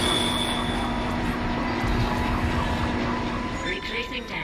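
A damaged tram car in the Dead Space game rolls along with a steady rumbling hum, a constant mechanical tone droning throughout at close range, with a faint whoosh rising near the end.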